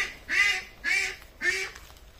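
Young ducks quack three times in a row, loud, close and nasal, each call evenly spaced with short pauses between.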